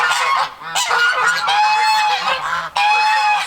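Drakes in a farm pen let out loud, rasping honks close by, several in quick succession with short gaps, no one speaking over them.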